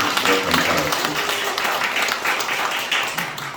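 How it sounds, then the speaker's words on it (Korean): A church congregation applauding during a Christmas-season service, dense steady clapping from many hands while someone speaks over it. "다시 한번 아셨으니까 박수로 크게 축복해 주시면 감사하겠습니다."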